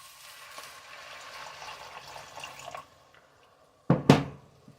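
Hot water poured into a pan of fried onions to deglaze it, a hissing, bubbling wash at first that fades away, then two sharp splashy bursts after a short quiet gap.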